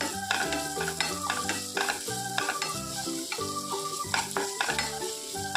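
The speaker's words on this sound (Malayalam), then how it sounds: "ഉപ്പിട്ട് കൊടുക്കുമ്പോൾ പെട്ടെന്ന് തന്നെ ഒന്ന് വഴറ്റിയെടുക്കാൻ പറ്റുന്നുണ്ട്." Steady stirring and sizzling of ginger and garlic sautéing in a pan after salt goes in, cooked for ghee rice, with repeated scraping strokes in a quick, even rhythm, close and clear, and no talking.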